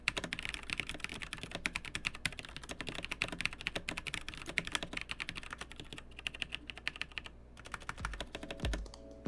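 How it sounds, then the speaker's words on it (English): Rapid, steady typing on a Razer Blackwidow Chroma Stealth mechanical keyboard with Razer Orange switches: a dense run of close, crisp key clicks and thocks with no talking. "Here's a quick sound test of the Razer Orange switch and the Razer Blackwidow Chroma."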